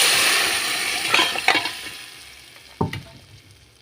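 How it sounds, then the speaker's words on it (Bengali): Mutton nehari frying in a pan with browned onion and garlic, a steady loud sizzle with a few stirring scrapes and one sharper clink, slowly fading toward the end. "এই পর্যায়ে নেহারিটা বাগার দিয়ে দিছি"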